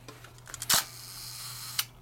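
A Hasselblad 500C/M with a Planar C80mm f/2.8 lens fires its shutter at 1 second: a few small mechanical clicks, a loud sharp clack, a second-long pause, then a second closing snap. Nearby and isolated.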